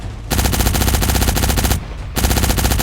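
Rapid automatic gunfire from the Cyber Hunter video game, loud sustained bursts with a short pause near the middle before firing resumes, no talking.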